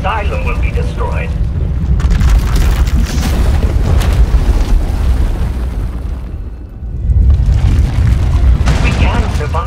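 A massive power eruption tears through an asylum in Star Wars: The Old Republic, a sustained deep rumbling boom with a roaring surge, a brief dip, then a second heavy blast, with voices faintly mixed in.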